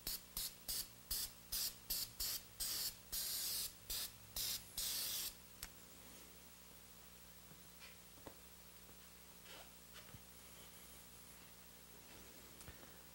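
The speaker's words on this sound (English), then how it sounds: "use some contact cleaner or brake cleaner to clean around your fill plug so no debris gets down inside your oil" Brake cleaner hisses from an aerosol can around a motorcycle's oil fill plug in a quick series of about a dozen short, loud bursts, followed by quiet and a few faint clicks.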